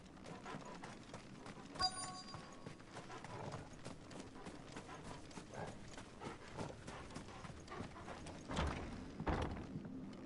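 Clip-clop hoofbeats of a horse-like mount being ridden to the stables in Final Fantasy 16, a steady faint trotting rhythm with a few heavier thuds near the end.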